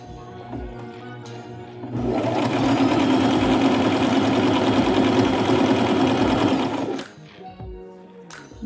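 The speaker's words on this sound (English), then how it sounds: "You sew a little more." Sewing machine stitching a fabric scrunchie, a loud steady rapid whir running for about five seconds between quieter handling noises, close by, with no talking.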